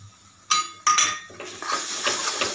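A spoon stirs spices in a metal cooking pot, starting with two sharp clanks against the rim followed by softer scraping and clinking as the mixture is moved around.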